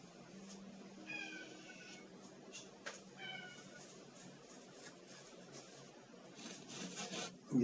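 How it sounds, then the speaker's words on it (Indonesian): A cat in heat meows loudly indoors, giving a few drawn-out, wavering yowls spaced apart over a quiet background, with faint rustling near the end. "Ini kucing gua lagi berisik banget tuh,"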